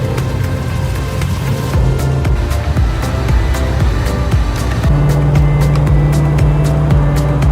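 Cars at a large DeLorean gathering, with engines idling and revving loudly nearby, a constant low motor drone and a steady hum joining partway through.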